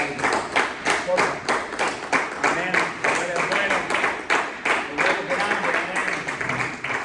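Rhythmic group clapping in a steady beat at a church service, loud and continuous, with a voice speaking over it.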